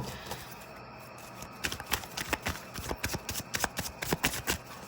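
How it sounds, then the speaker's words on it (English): Cards from a tarot deck shuffled in a quick run of crisp, riffling flicks, close and fairly quiet, starting softly and growing into dense rapid bursts with no talking. "I'm going to pull from the actual tarot deck as well to see if we get any specific cards on that"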